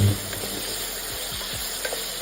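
Totapuri mango pieces stirred in a pan while softening: a steady low sizzle with repeated soft scraping strokes of the spoon, close and continuous, with no voices.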